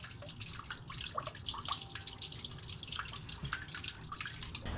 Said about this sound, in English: while the radiator is draining